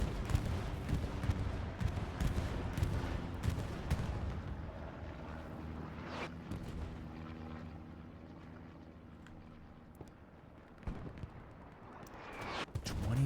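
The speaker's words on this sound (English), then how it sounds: "Bombing runs coming in for 10th Mountain here on 4th point" Bombing run in Hell Let Loose, a World War II shooter: rolling explosions and dense booming rumble with aircraft drone, continuous loud battlefield noise with sharper blasts near the end.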